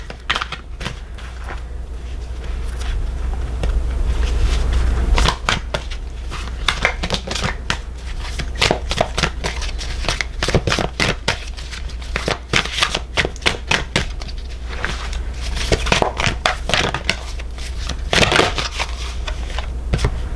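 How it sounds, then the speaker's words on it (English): Tarot cards are shuffled up close in rapid, uneven riffles and slaps, a busy papery crackle running steadily for about twenty seconds with no talk. "So I'm going to shuffle these cards here and pick the piles."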